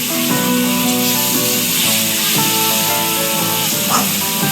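Ginger garlic paste frying in a pan for mutton curry, a loud steady hiss and sizzle that runs the whole time, with a few clinks of a utensil against the pan.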